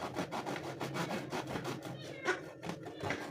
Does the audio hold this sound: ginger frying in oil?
no